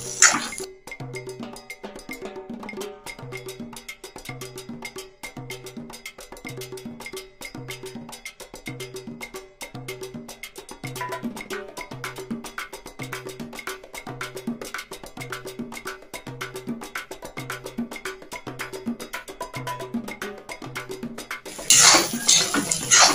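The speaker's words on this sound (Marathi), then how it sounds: "ही अंडी शिजेपर्यंत आपण ढवळत राहूया।" Egg bhurji being stirred in a pan, a rapid, regular clatter of a metal spoon scraping and tapping the cookware, close and continuous, with a louder burst of clinks near the end and no voices.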